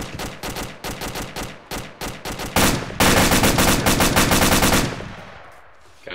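An M240 machine gun fires in a video game, first in short rhythmic bursts of sharp, loud shots, then in one long continuous stream of rapid fire that stops abruptly, followed by a fading echo.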